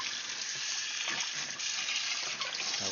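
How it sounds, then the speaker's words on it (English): Water splashing and trickling as aquarium gravel is rinsed, a continuous close, bright gush with small clatters of stones shifting underneath. "I'm just rinsing this gravel out."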